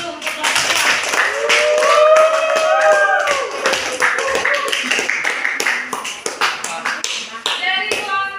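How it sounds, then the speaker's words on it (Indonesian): A group in a classroom training session applauds, with close, sharp claps that are fairly sparse and uneven. Excited voices and chatter run over and through the clapping. "Yuk kita beri aplaus dulu untuk kelompok"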